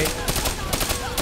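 Automatic turret fire in the shooter Call of Duty: Black Ops 3, a loud rapid burst of gunshots in quick succession, close and dominant for the short stretch.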